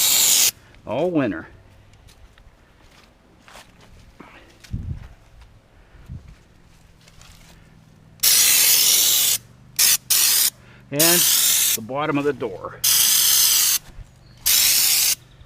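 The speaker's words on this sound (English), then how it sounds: "Now I want to spray this whole rocker panel" Fluid Film rust-proofing spray sprayed onto a Ram truck's rocker panel and door bottom in repeated loud, close hissing bursts, each lasting about a second, with someone talking in between.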